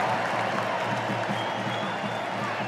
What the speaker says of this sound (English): Now the crowd responds.